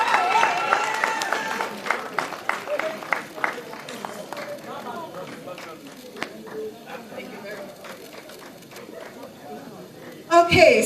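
An audience at a journalists' awards ceremony in Sierra Leone claps loudly, then the applause thins into scattered claps and fades under a murmuring crowd before a voice cuts in.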